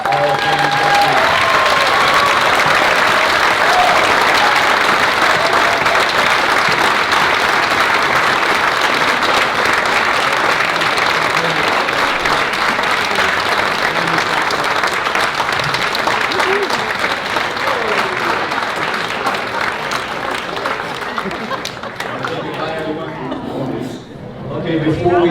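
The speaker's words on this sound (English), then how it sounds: "let's have one more round of applause for the 2023 Hall of Fame inductees" Sustained loud applause from a large crowd honoring 2023 high school athletics Hall of Fame inductees, a dense continuous roar of clapping with some cheering that tapers off near the end.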